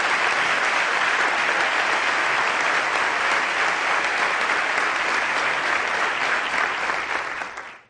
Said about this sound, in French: Un grand applaudissement pour notre ministère.